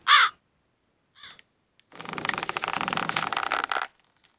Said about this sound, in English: Why does that bird make a noise?